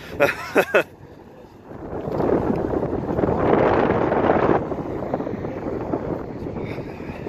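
Strong wind gusts buffet the microphone outdoors in a packed parking lot beside an abandoned Super Kmart in Uniontown, Pennsylvania, a loud steady roar that swells and eases after a few brief knocks.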